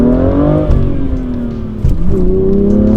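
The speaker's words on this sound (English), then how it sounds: "So if I start the car up, right? Let's get going. Let's really rev it up." A BMW M2 engine revving hard, loud and close, pitch climbing and dipping through throttle blips with a brief drop near the middle before rising again.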